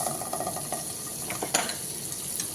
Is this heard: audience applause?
no